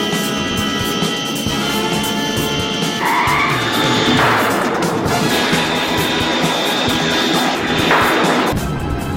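A cargo airplane flying low at high speed, its engine roar loud and continuous throughout with shifting whining tones layered on top, no voices.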